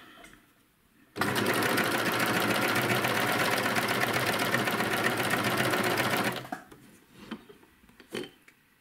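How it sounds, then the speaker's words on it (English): A sewing machine stitches outer curve binding on a fabric mock-up, one loud, steady burst of rapid mechanical whirring for about five seconds, then stopping and leaving faint handling clicks nearby. "getting my machine set up for binding. And I'm gonna take one of my mock-ups and I'm just gonna put it in and we're gonna give it a whirl"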